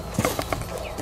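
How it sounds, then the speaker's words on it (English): Horse shifting about at a team penning event, a few close hoof clops and thuds over about a second, with faint snorts and no talk. "You silly horse."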